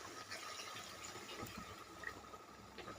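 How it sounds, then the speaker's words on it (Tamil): Water poured into chicken eral gravy in a pan, a faint continuous gush and trickle of liquid in a quiet kitchen. "இந்த அளவுக்கு தண்ணி சேர்த்துக்கோங்க."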